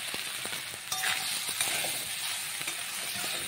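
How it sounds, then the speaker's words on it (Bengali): Pasta with capsicum and tomato sauce stirred in a pan, giving a steady close sizzle with soft scraping and clicking spoon strokes throughout, no talking. "এবার খুব সুন্দর করে ভালো করে নাড়িয়ে চাড়িয়ে নেব"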